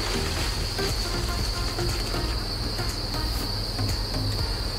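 Dense, continuous chirping of live crickets being weighed for shipping, a steady high trill layered over a low hum.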